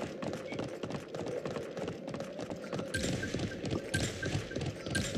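Horse hooves gallop in a fast, steady clatter that runs throughout, mixed with background game noise.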